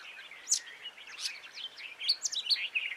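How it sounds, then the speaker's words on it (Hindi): Lark chick giving a series of thin, high chirps and tweets, several short calls scattered over a few seconds, fairly faint against a quiet background. "ये लार्क का चूजा अचैतन्य प्रकार का ही है।"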